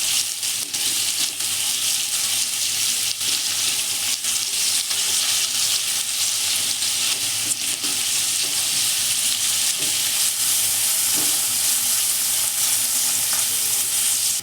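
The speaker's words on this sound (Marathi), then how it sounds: "कांदा चांगला असा लालसर होतपर्यंत" Onions fry in oil for egg rice until they turn reddish, a loud, continuous bright sizzle with occasional stirring scrapes and nothing else over it.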